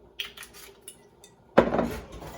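Spoon clinking against a bowl while stirring white beans with herb salsa, olive oil and salt; a few light taps, then a sharper scraping clatter near the end, close and quiet.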